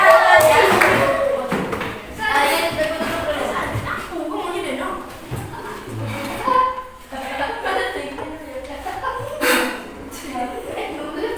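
A primary school class does the 'tepuk pagi' clapping chant, with short bursts of rhythmic group clapping mixed with children's voices and a teacher talking, plus some chuckling, close and fairly loud.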